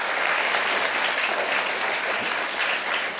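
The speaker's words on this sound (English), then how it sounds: "Please give them a round of applause." A conference audience applauds a newly introduced panel, including guests from an East Africa office, with dense, steady clapping that fills the hall and holds at an even level throughout, with no voices over it.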